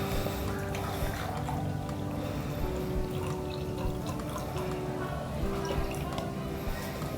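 Water poured into glasses during a classroom density experiment, a continuous trickling and splashing under a low, busy room hum with faint voices in the background.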